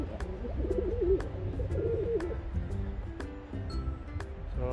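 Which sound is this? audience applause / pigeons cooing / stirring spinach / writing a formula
pigeons cooing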